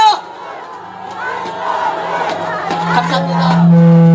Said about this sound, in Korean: 큰 박수 보내주세요.